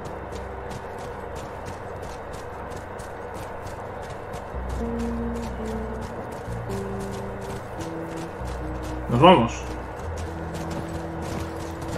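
Horse hooves clip-clopping at a walking pace in The Last of Us, a steady rhythmic clatter over low ambient game music, with a brief spoken line near the end.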